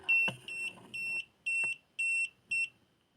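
A semi-automatic voltage detector clamp meter beeps repeatedly in a steady rhythm, six short high-pitched tones at even intervals with faint handling noise early on.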